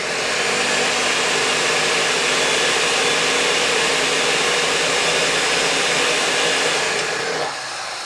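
Food processor grinding basil pesto with Romano cheese: a loud, steady motor whir runs continuously for about seven seconds, then cuts off abruptly, leaving a faint hum.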